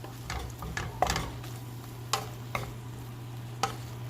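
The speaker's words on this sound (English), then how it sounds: "Let's give it one more stir before we add the cheese." Chilaquiles with egg and bacon get stirred in a pan, with several distinct spoon scrapes and taps over a faint sizzle and a steady low hum.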